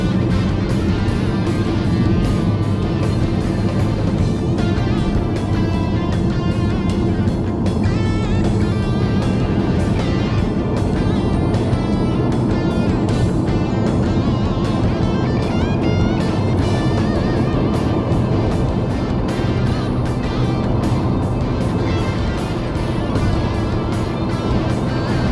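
A Mini car driving a winding mountain highway in British Columbia near Hope, Princeton and Merritt, with a loud, steady engine drone and road and wind roar heard from inside the cabin, continuous for the whole stretch and no talking.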